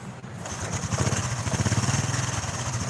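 A fuel-injected Honda Blade motorcycle engine is revved up close, rising from a rough idle into a fast, pulsing throttle blip that holds steady and fairly loud.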